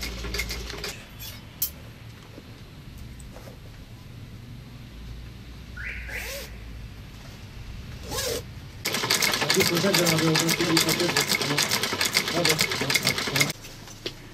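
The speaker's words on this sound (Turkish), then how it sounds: "Şu anda ben bunun fermuarını değiştireceğim." A sewing machine runs in a Turkish shoe repair shop while a boot zipper is replaced. It starts with short bursts over background bustle, then stitches loudly and continuously for several seconds, with clinks nearby.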